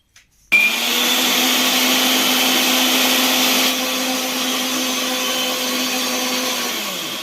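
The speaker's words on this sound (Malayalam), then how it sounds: "മിക്സിൻ്റെ ചെറിയ ജാറിലേക്ക് മാറ്റാം, പൊടിക്കുന്ന ജാറിലേക്ക്. നമുക്കിത് അരച്ചെടുക്കുക." A mixer grinder whirs loudly as it grinds ingredients in its small jar. It starts abruptly and holds a steady, high-pitched motorized roar for nearly seven seconds, with no voices.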